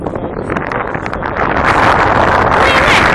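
Wind whistles and roars across the microphone, building steadily louder and more hissing toward the end, a continuous close rush with no clear talk.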